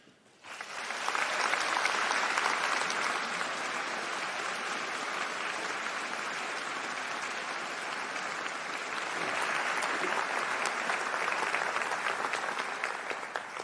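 A large university convocation audience applauds steadily for about thirteen seconds, a dense, even wash of clapping that starts abruptly, holds at full strength and swells slightly near the end.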